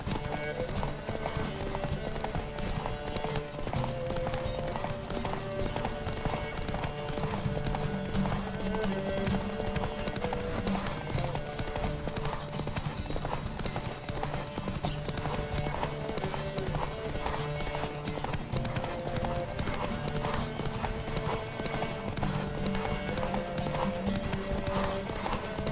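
A horse gallops flat out in a race in The Witcher 3: Wild Hunt, rapid hoofbeats drumming continuously and loudly for the whole stretch, with an occasional whinny and game music underneath.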